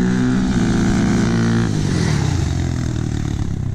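Two 400 machines drag racing side by side at a muddy off-road park, a loud, dense engine roar with rising revs and a shift in pitch partway through, close and continuous.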